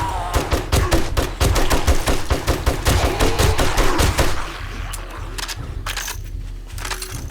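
Rapid automatic gunfire in The Purge video game, a long run of loud, evenly spaced shots close up, tapering into quieter scattered noise and a few distant shots.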